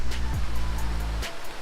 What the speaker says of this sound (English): It's a very nice waterfall.